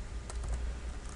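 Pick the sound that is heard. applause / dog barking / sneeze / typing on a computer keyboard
typing on a computer keyboard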